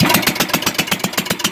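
A boat motor on Caliraya Lake in Kalayaan, Laguna starts up and runs loud and close, with rapid even pulsing thumps of a small engine chugging.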